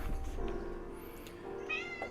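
A cat meows once or twice at home before getting treats, short high mewing calls, moderately close over a low steady background hum, with no talking.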